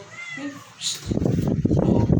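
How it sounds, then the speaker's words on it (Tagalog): A cat meows during a Sunday morning church sermon, a short high cry heard over a room murmur, followed by a burst of loud, dense crowd noise. "Palabasin nyo yung pusa."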